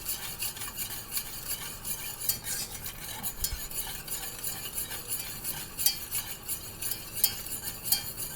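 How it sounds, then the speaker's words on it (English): A spoon scrapes steadily and briskly around a pot of thickening lemon meringue pie filling made with sugar and cornstarch, a continuous close stirring sound with no voices. "you stir until the arm falls off"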